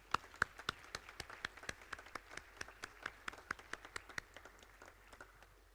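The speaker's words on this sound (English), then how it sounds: "I want to give them a round of applause for everything they've done" A school staff recognition event where an audience gives steady, rhythmic clapping that sounds fairly sparse and distant, keeping an even beat for several seconds.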